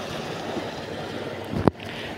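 Irrigation water from a running motor pump pours out across a farm field, a steady broadband rush like surf, with one brief louder knock near the end.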